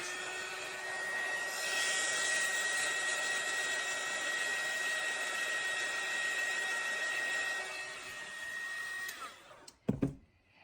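A heat gun blows a steady, loud whir over a freshly poured base layer of epoxy resin for about nine seconds, then switches off, followed by a few handling knocks.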